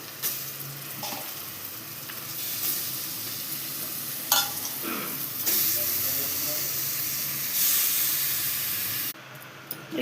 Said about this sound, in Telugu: ఈ ఫిష్ ముక్కల్ని అందులో ఒక్కొక్కటిగా వేసేసుకుందాం